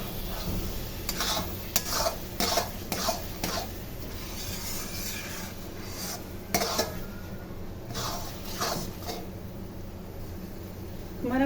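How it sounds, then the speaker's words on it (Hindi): Banana and khoya halwa stirred with desi ghee in a pan, giving soft scraping and rubbing strokes with repeated clicks of the spoon on the pan over a faint low sizzle, close by. "इसलिए अब मैं ये देसी घी डालूंगी"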